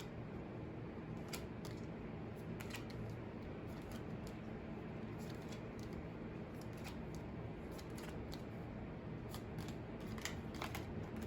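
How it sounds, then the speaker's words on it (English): Playing cards are dealt one at a time into piles, three to a pile, with soft, irregular flicks and snaps close by over a steady low hiss. "you're going to dole out 3 cards per pile until you are left with 4 single cards."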